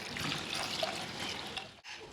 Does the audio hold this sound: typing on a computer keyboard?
no